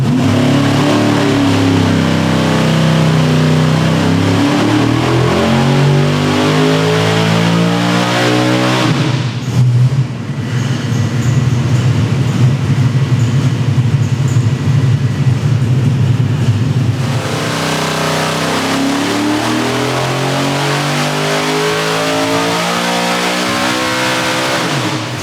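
A big block engine revs hard and loud, rising in long sweeps, dropping to a rough idle partway through, then climbing again in repeated pulls.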